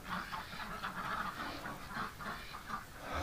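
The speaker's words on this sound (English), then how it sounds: "Ducks are making a break for it." Pen of farm ducks in winter, a flock quacking in a steady, fairly close chorus of repeated calls with no talking.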